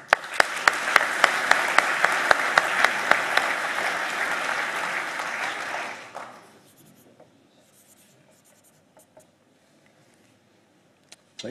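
An audience at an academic year opening ceremony applauds during a placard signing, broad steady clapping with sharp pen or tapping clicks, fading out after about six seconds into near silence with occasional faint ticks.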